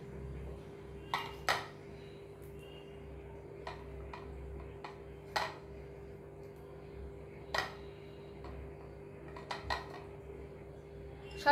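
A spoon clinks against a bowl while cucumber is mixed into yogurt for raita, sparse light taps scattered over a quiet room hum, soft and close.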